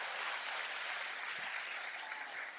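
Continuous crowd applause for the Eagles, a dense even patter of many hands clapping at moderate distance, steady throughout with no voices over it.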